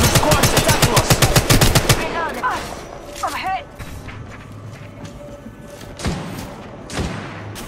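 Rapid automatic gunfire crackles in a burst of Apex Legends Mobile battle royale combat, followed by scattered shots, thuds and game effects, with voices talking over the action.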